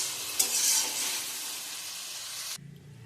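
Spice masala fries in oil for a paneer dish, a dense, bright sizzle with stirring scrapes running steadily up close, then cutting off abruptly near the end to leave a low, quiet background.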